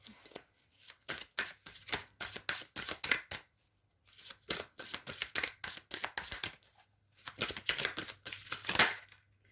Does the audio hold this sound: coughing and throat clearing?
no